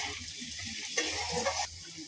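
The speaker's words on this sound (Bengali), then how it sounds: "এখন একটু ভাজার জন্য আর একটু হলুদ দিয়ে দিলাম।" Quiet frying in a pan with salt and turmeric while making sago pulao, with a soft steady sizzle and a brief louder stir or scrape in the middle.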